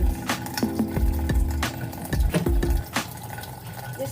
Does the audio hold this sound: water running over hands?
yes